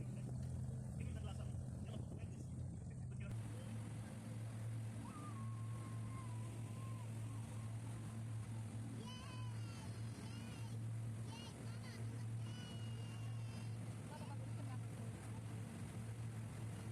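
A steady motor drones low and constant beneath a crowded boat ride carrying ten to fifteen passengers, with people and children talking throughout.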